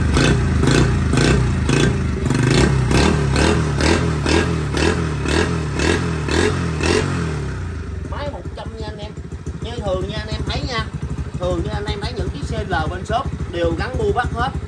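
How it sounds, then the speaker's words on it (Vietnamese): A Honda CL50 motorcycle engine and exhaust idling up close, a steady pulsing putter for about seven seconds before the revs drop to a quieter, uneven rumble with someone talking over it. "thứ hai là cái bô xe này rất là nghe, rất là hay luôn"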